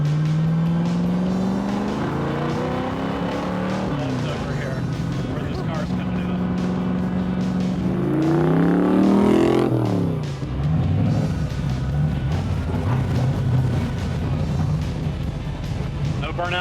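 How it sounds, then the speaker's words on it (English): A Superformance Cobra sports car does burnouts inside a showroom, its V8 roaring loudly with rising and falling revs and a sweeping climb in pitch near the middle, heard close over talking. "Burnouts in the showroom."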